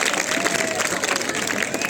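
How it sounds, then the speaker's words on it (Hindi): An audience at a school annual exam prize distribution claps steadily and densely, a loud, continuous burst of applause. "चलिए इनके लिए जोरदार ताली बजाइए।"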